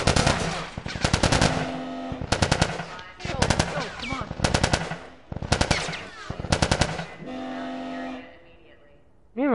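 Gunfire from The Last of Us Remastered: several loud bursts of rapid automatic shots separated by brief pauses, with voices in between.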